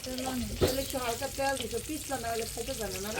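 Fish frying in a large amount of oil gives a steady, close sizzle that runs the whole time, with voices talking over it.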